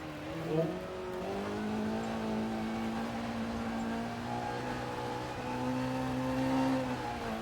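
A rear-wheel-drive rally car in the EA Sports WRC game on snow and ice: its engine drones steadily with rising and falling revs, sustained and near, with no voices over it.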